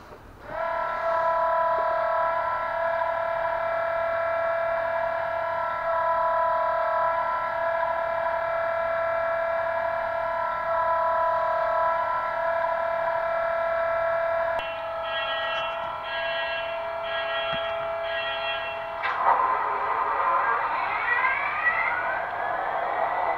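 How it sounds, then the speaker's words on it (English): Bachmann Class 66 model locomotive sound unit on a garden railway, producing a steady droning diesel engine tone that holds for about fourteen seconds, then shifts pitch with pulsing notes and ends in a rising horn-like blast. "we've added sound into this loco, so I will now start it up"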